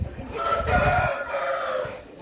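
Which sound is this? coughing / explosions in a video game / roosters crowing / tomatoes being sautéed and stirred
roosters crowing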